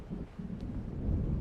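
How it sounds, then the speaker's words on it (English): A thunderstorm closes in over dark water in Alan Wake Remastered, heard as a low, distant rumble under steady wind and the wash of waves, with no voices. "It seems there's a storm coming."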